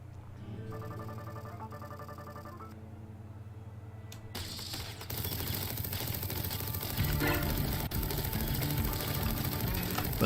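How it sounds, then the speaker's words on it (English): Enemy gunfire in TerraTech starts midway, after a stretch of mechanical whirring and humming, then becomes a loud, rapid, continuous rattle that keeps going to the end. "these guys are going to start shooting at me"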